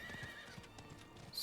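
Horse hooves clip-clop steadily in Diablo, with a whinny, as a horse is brought to a door; the steps are moderately loud and play alone over low game ambience.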